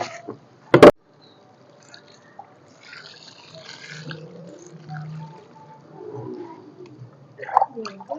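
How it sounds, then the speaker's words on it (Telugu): Water poured from a container onto a young brinjal plant potted in a grow bag: a sharp splash at the start, then a soft, low trickle and faint dripping that continues quietly. "ఇప్పుడు కొద్ది నీళ్ళు పోస్తాను."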